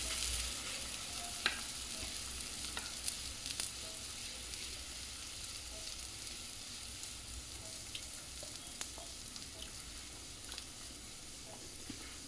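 Radish paratha fries in ghee on a hot griddle, giving a steady, soft sizzle with faint crackles and pops throughout, close and undisturbed by talk.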